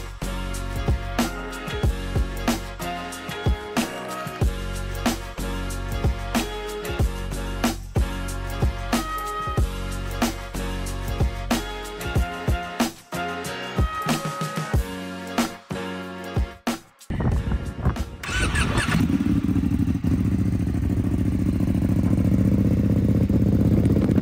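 A Ducati V2 racing motorcycle in British Supersport, its engine loud and close, revving hard through repeated gear changes with crisp bursts, then giving way to a steady roaring wash of wind and engine noise.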